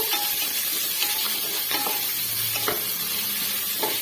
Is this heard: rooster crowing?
no